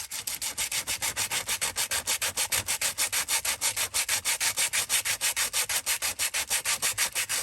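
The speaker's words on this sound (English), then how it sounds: "So starting by doing the sanding for a start for your address" Rapid, steady back-and-forth rasping of sandpaper scrubbing across junk mail, about four strokes a second in an even rhythm, close and fairly loud, with no voices.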